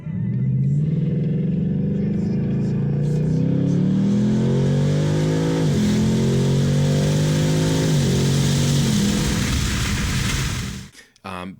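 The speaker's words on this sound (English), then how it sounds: "with a 5 liter, like 460 horsepower, 10 speed automatic" A rented car with a 5-liter, roughly 460-horsepower engine and 10-speed automatic pulls hard from inside the cabin, a loud rising engine note climbing through several gear shifts before easing off at the end.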